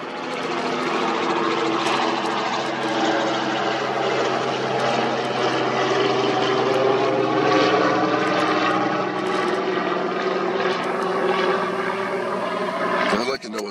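A propeller aircraft flying over, its steady engine drone with layered harmonics holding loud and continuous throughout, with someone talking over it.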